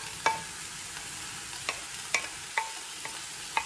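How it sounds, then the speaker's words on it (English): Mushrooms sautéing in a pan: a steady soft sizzle under a handful of sharp spatula taps and scrapes spaced about half a second apart, close by with no talking. "I love sauteed mushrooms"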